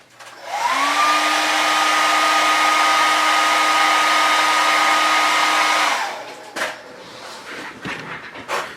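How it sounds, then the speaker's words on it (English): A blow dryer roars steadily for about five seconds, close and loud with a rising whine as it spins up, drying wet paint on a garage-kit model bust, then clicks off leaving faint handling noises. "so I'm going to hit it with the blow dryer real quick."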